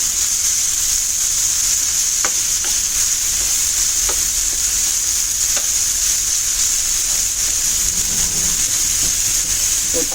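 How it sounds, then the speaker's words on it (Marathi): Tomatoes sautéing in a pan for a Malvani squid keema, a steady close sizzle running throughout with occasional soft knocks and scrapes of stirring. "टोमॅटो छान आता शिजेपर्यंत आपल्याला परतत राहायचं आहे"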